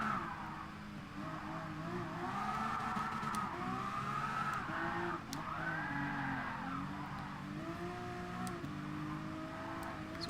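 A Ferrari race car in Gran Turismo Sport grinding along a wall, engine whine rising and falling over a steady scraping rasp, with occasional sharp clicks of impact, loud and continuous throughout, no voices.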